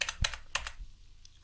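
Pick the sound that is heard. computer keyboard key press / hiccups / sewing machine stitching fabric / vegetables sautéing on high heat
computer keyboard key press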